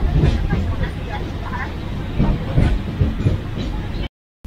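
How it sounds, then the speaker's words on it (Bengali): Vande Bharat Express semi-high-speed train running at speed, a steady rolling rumble with faint rail clicks from onboard, with a person talking throughout. "এই স্পিড ট্রেন কিন্তু কাছাকাছি স্পিডেই চলছে, এখন বেশ ভালোই স্পিড তুলেছে।"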